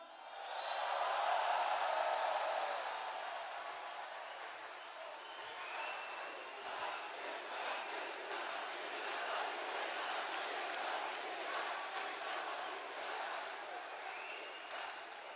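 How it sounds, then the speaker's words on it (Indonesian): A crowd of party cadres applauds at a political speech, swelling into loud sustained clapping and cheering that rolls on steadily for about fifteen seconds. "Dan tepuk tangan juga buat sahabat saya Mas Gibran"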